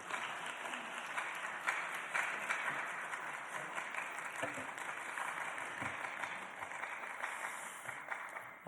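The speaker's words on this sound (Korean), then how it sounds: "우리 박수로 환영하겠습니다" A church congregation at a Sunday afternoon worship service claps to welcome a missionary serving in Nicaragua, a sustained, even wash of applause from many people.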